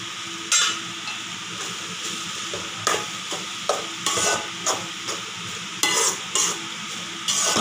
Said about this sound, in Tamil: இன்னும் மல்லித்தலையை தூவி ஒரு கிளர் கிளறிட வந்து